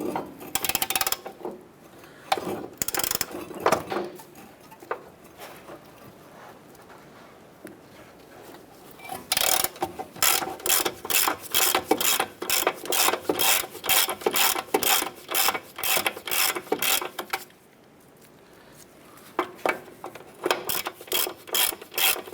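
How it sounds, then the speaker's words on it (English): A ratchet with a 17mm socket loosens the upper nut on the driver-side front wheel hub of a 2008–2012 Honda Accord, giving bursts of rapid clicking with short pauses, close and fairly loud. "Using a 17mm socket, I want to go ahead and remove our upper nut here."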